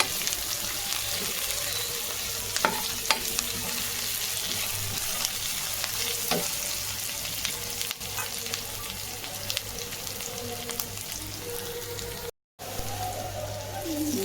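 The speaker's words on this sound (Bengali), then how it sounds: "এই পেঁয়াজ ভাজা হচ্ছে পেঁয়াজ।" Onions fry in a pan for a hilsa fish ghata, a steady dense sizzle running throughout with occasional sharp clicks of stirring.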